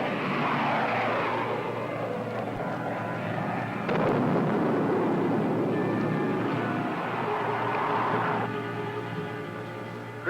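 Spaceship guns fire at rocket tubes in a 1950s space drama, heard as a loud, continuous roaring rumble with a jolting impact midway and another surge near the end, no voices over it.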